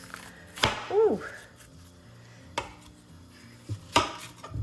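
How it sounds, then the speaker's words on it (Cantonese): A knife chops fresh Chinese yam on a board in a home kitchen, giving three or four sharp, separate close thwacks with quiet gaps and light background clatter. "我當佢普通蘿蔔咁切"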